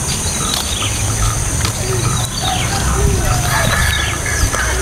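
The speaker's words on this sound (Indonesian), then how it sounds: "Kan ayam yang di situ dia suka lompat." Chickens in a rural village outdoors cluck intermittently amid a steady hum of insects and crickets, the birds moderately close and partly layered over the constant background chorus.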